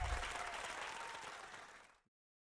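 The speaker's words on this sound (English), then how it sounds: "Round of applause." A studio audience at a talk show breaks into a round of applause for a guest, a dense, steady clapping that fades out over about two seconds.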